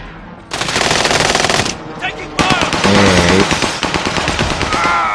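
Rapid automatic gunfire in the Warzone video game, loud and dense bursts with a short pause between them and tonal game effects mixed in, while players talk over the shooting.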